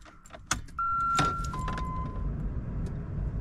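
A car door thuds, then an electronic chime and a steady tone sound as the vehicle powers up, with a low idle hum underneath.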